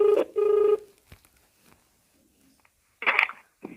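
A few short electronic tones of a telephone being dialed to place a call, two sustained beeps near the start followed by quiet and a burst of noise near the end.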